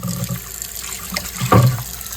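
Lukewarm tap water runs into a sink while an antique item is washed with dish soap. The splashing is steady and close, with a brief louder gush near the end.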